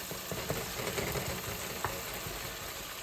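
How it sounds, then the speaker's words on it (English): Beef stew meat deep frying in oil gives a dense, continuous sizzle that holds steady and close, with a few faint pops and no talking. "Boiling then deep frying."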